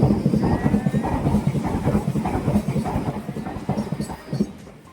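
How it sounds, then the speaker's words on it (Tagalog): Train pulling into a UK station, a loud rumbling rush with rhythmic wheel clatter that slowly eases as it slows. "my train is here."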